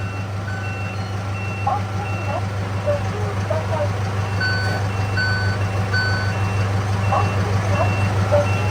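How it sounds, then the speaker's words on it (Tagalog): Steady high-pitched reversing beeps from a Denso back horn repeat at an even pace over a loud idling truck engine, with a voice talking in the background. "merong warning tone pag umatras siya"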